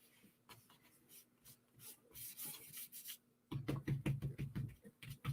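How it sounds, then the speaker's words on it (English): An embossing buddy rubbed over paper in papercrafting with Versamark ink, giving soft, quiet, close scrubbing strokes in short bursts that speed up into a quicker, denser rubbing run near the end. "I'm going to be using the embossing buddy"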